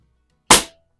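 One sharp, loud crack from a Pinty PCP air rifle fired at paintballs, a single close shot that decays within a quarter second into quiet.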